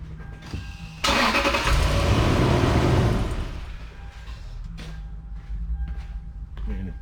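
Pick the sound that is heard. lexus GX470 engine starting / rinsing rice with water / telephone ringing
lexus GX470 engine starting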